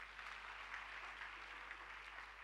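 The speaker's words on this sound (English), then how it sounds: "Let's applaud him for the hard work" Audience applause at a university congregation ceremony, a soft, even wash of clapping heard from a distance with a low steady hum beneath, lasting the full moment without breaks.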